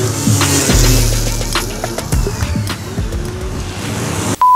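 Scooters arriving at a scooter meeting in Groningen, engines buzzing and revving nearby with passing motor noise and a few knocks, fairly loud throughout with a brief cutoff near the end.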